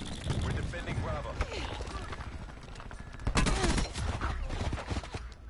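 Rapid crackling bursts of a cluster grenade exploding in Black Ops 4, mixed with gunfire and a busy multiplayer din, with a louder cluster of pops partway through.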